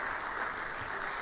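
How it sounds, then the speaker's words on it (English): Audience applause at an energy company's technology week event, a steady, dense wash of clapping filling the room without pause for a moment. "let's give them a round of applause"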